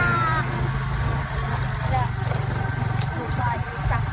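A cat meows briefly near the start over a steady low engine drone, with people talking nearby throughout.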